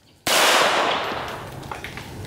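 A single sharp .22 Long Rifle shot on a ranch, fired at a wheel clamp, cracking loud and close before a ringing tail dies away over about two seconds.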